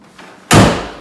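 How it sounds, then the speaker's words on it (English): The hood of a 2015 Mustang GT slams shut in a garage, a single loud, heavy thud preceded by a faint soft bump, then a brief decaying rumble. "Hood shut."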